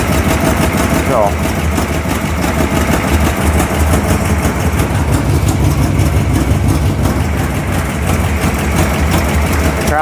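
A 1957 Ford Thunderbird V8 idles steadily up close, a loud continuous rumble with a brief rev near the start, while someone talks over it throughout.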